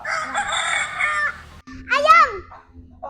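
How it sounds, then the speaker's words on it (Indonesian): A rooster crows once, loud and close, a rising then falling cock-a-doodle-doo, played as an animal sound in a children's guessing game, after a stretch of high-pitched noise. "Ayam."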